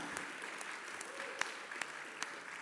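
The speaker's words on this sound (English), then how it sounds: "please give a round of applause as the chuppah is being erected" Steady applause from a crowd at an ordination and graduation ceremony, a continuous wash of clapping at moderate distance with a few sharper individual claps standing out.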